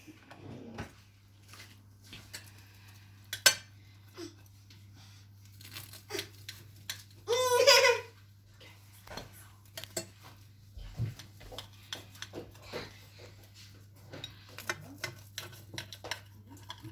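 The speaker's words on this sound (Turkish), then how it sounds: "bıçakla ortadan keseceğim" A knife scrapes and crunches through crisp pan-fried egg toast in one short burst, surrounded by quiet clinks of cutlery on a plate.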